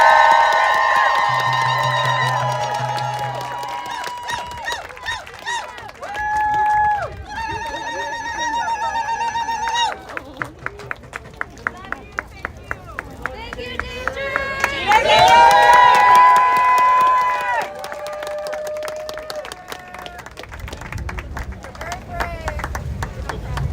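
Crowd at a climate protest outside the White House claps and cheers, with a run of sharp rhythmic claps swelling into louder cheering, mixed with voices and shouting.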